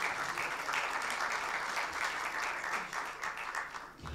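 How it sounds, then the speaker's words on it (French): Sustained, dense clapping from a conference audience at the 22nd Officine Expo pharmacy event in Casablanca, steady and full throughout with no voices over it, thinning slightly at the very end. "qu'on applaudit très fort"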